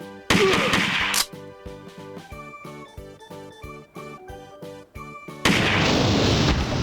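Machine gun fire from an old Sega arcade shooter video game comes in dense, loud automatic bursts at the start and end, with rhythmic electronic shots and game music between them.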